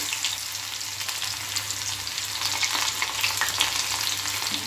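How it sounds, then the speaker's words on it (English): Garlic fries in hot oil with a bright, dense sizzle and crackle that stays steady and close, with no talking over it. "so now we have to heat little oil first. Then in that oil I am adding little"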